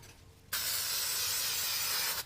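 One long, steady hiss of a spray adhesive aerosol can spraying close by, starting abruptly and cutting off after about two seconds.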